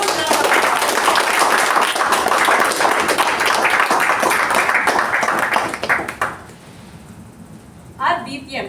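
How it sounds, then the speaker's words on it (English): Audience applause at a Toastmasters club installation ceremony: dense, loud clapping from a room full of people that fades out after about six seconds, followed by a short quieter patch of scattered claps near the end. "let's all give Toastmaster Jyoti a huge round of applause"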